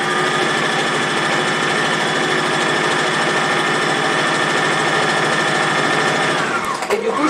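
A sewing machine stitches a seam in a steady, rapid, continuous whir that runs loud and close for several seconds before stopping abruptly near the end.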